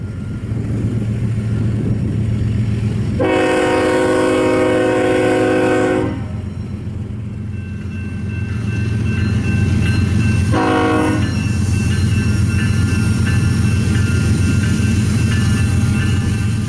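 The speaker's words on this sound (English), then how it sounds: "an ethanol train takes center stage at the crossing" An ethanol freight train rumbles past a crossing on the Cajon Subdivision steadily and loudly, with a long horn blast early on and a shorter honk later as the cars keep rolling by.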